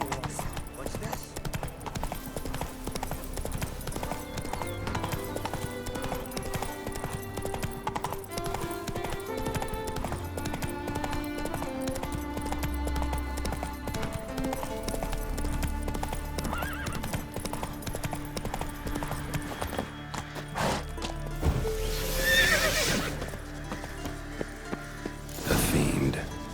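Galloping hooves clip-clop steadily for a horse in the video game The Witcher 3, with whinnies and neighs rising over the rhythm, game music and effects underneath, and a brief louder burst near the end.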